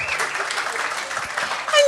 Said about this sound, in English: that deserves a smattering of applause